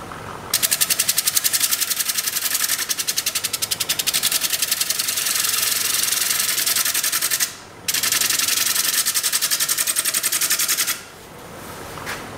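A wood lathe spins a walnut bowl blank at around 700 RPM, giving a steady, loud whirring drone with a fast rhythmic flutter that drops out briefly twice, with no talking.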